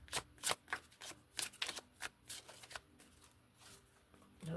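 Tarot cards are shuffled by hand in quick irregular bursts of riffling and snapping, close and crisp against a quiet room, a dozen or so short flurries over a few seconds.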